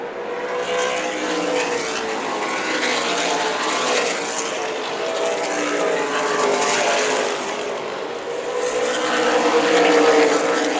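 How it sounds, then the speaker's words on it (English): Race cars roar past at Tucson Speedway, a loud sustained engine drone that swells and fades as the pack circles the oval, with no talk over it. "Lead change. Peltier to the lead around Neff"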